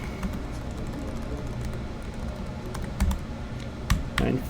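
Computer keyboard typing, a steady run of soft key taps with a few louder strokes near the end, close and alone with no talking.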